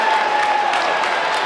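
Scattered applause and crowd murmur fill a high school basketball gym during a game, a steady, moderately loud wash of clapping without a clear peak.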